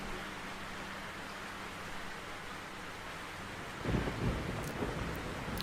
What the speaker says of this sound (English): It's not going to go outside until it quits raining.